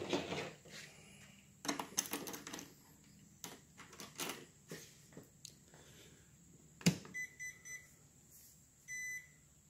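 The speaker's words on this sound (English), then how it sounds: "you're going to hear a series of beeps once I give it power" An electronic speed controller gives a short series of faint electronic startup beeps once power is applied, coming near the end after soft clicks and handling noise.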